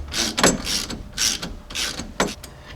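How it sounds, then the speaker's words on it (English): A wrench ratchets a tie rod nut tight on a Jeep Grand Cherokee ZJ tie rod upgrade, giving close, repeated metallic clicking strokes in an uneven rhythm with short pauses between pulls. "if we take a wrench on the back side, it's going to finish tightening up that other nut that's on there"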